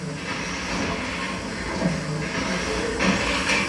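The steam engine that drives Tower Bridge runs steadily, producing a loud, continuous hissing, rumbling mechanical roar heard close up without speech.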